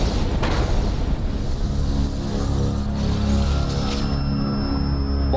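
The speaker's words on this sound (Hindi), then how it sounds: "पुरानी दिल्ली में एक ऐसा धमाका हुआ जिसमें एक बड़ा नरसंहार हुआ" A heavy bomb blast in Old Delhi, staged as a sound effect for a TV crime drama: a sharp burst near the start swells into a loud, dense, sustained roar and rumble that fills the whole stretch.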